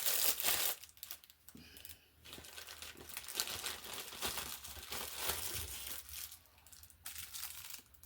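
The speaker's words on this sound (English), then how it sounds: "I'm not going to put it back in the crinkly bag right now." A crinkly plastic bag is handled up close, with broadband rustling and crackling bursts that come and go across several seconds, loudest at the start and again near the end.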